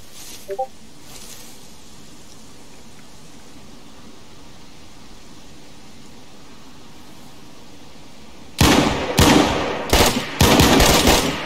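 Gunfire in the video game DayZ: after a long quiet stretch, loud rapid bursts of shots crack out in several volleys near the end.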